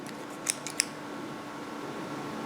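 Scissors snip through a crocheted amigurumi piece of a Bichon Frise dog, cutting down its center, giving a few quick, faint blade clicks close by against a quiet room hum.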